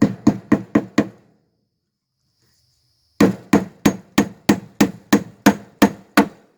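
A hammer tacks chicken wire onto a wooden base with sharp, evenly spaced blows, a quick run of five, a pause of silence, then a steady series of about ten more, close and loud.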